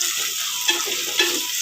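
Onions frying in a pan after ginger garlic paste has gone in, a close steady sizzle with a couple of soft stirring scrapes, brief and without voices.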